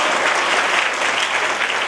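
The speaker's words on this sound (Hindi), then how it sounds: "कोई बात अच्छी लगे तो ताली जरूर बजाना" An audience at a Bhagwat katha religious discourse breaks into dense, steady applause, a continuous close wash of many hands clapping together at full volume throughout.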